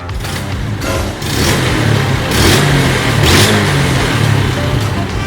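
A Honda Wave 110i motorcycle engine is revved through an RM Mini throttle, loud and close, with several sharp rises in engine pitch that quickly drop back toward idle.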